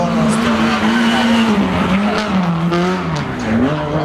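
Honda Civic Type-R rally car at the Barbórka rally, its engine whining loudly and steadily at high revs with a wavering pitch, along with some tyre noise.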